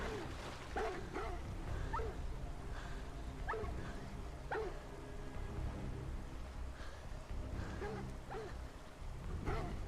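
Several dogs in a video game bark in scattered short yelps over a steady rain-like hiss and game noise, fairly loud throughout.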